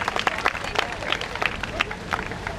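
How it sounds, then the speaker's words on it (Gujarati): Scattered clapping from a small crowd, uneven and crackly, with a lively murmur underneath. "ભાઈ તાળીઓ પાડો"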